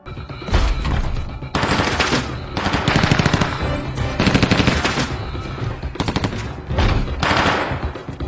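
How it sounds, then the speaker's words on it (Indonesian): Sustained, loud film gunfire as shooters blast away at practice targets, rapid overlapping bursts of automatic shots rolling on without pause. "menembaki papan tembak sebagai latihan untuk membebaskan Sandra"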